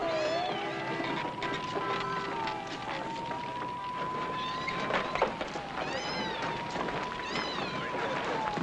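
A cat meows repeatedly in a long, wavering, drawn-out cry that carries over steady background noise and wind, with further voices or cries mixed in.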